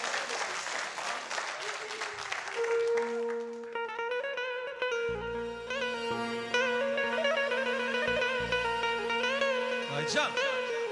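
Applause from a studio audience at an Azerbaijani televised music show, a dense clatter of clapping that gives way to instrumental music and a singing voice.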